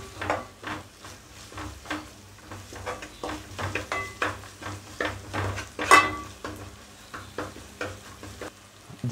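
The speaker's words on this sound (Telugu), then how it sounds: "జింజర్ గార్లిక్ పేస్ట్ పచ్చివాసన పోయేంత వరకు కలుపుకున్నాం ఫ్రెండ్స్." Onions and ginger garlic paste with turmeric frying in a pan, rhythmic stirring strokes scraping the metal over a low sizzle, close, with one sharp clink of a utensil partway through and no talking.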